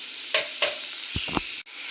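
Yellow pumpkin sautéing in a pan for kootu, a constant close sizzle broken by a couple of spoon taps and low knocks, brief and without talk.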